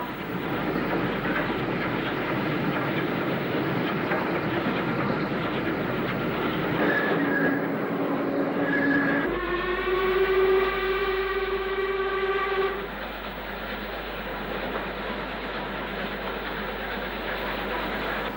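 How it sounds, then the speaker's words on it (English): A steam-era train pulls south out of Stoke-on-Trent past back streets and kilns, rumbling steadily and loudly, with a tonal whistle-like blast sounding partway through over the continuous rolling noise. "the train heads south out of Stoke"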